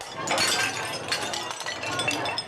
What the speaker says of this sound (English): The first thing you notice is the sound of smashing crockery.